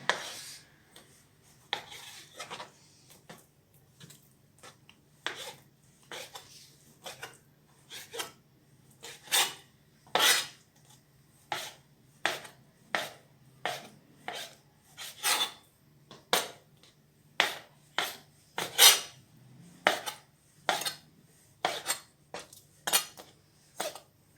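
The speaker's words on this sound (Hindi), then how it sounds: "चिकन हम काटने लगे हैं। सबसे पहले इसकी क्यूब बना लेंगे चिकन के।" Chicken is cut into cubes with a knife, giving a steady run of sharp, close chopping and slicing strokes, about one every second, with no voices.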